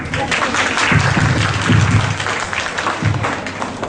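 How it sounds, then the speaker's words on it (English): Clapping during a school parent orientation session: a dense, continuous wash of hands clapping at steady loudness for about four seconds, with murmuring voices mixed in underneath. "Tania, I am clapping now"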